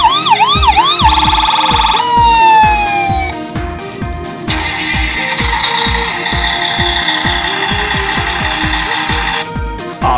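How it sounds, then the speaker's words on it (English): An Imaginext toy fire truck blares a loud electronic siren that sweeps up and down, then shifts to a steady wail over a rapid mechanical clicking beat. "it even sounds like a real fire truck."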